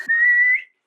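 One steady whistle blown for about half a second, loud and close, with a brief rise in pitch before it cuts off into silence.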